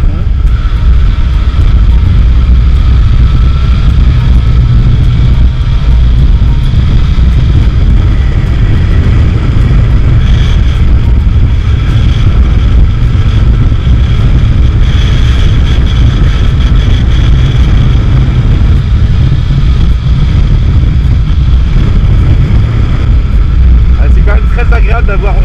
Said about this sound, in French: On rouvre les gaz à fond.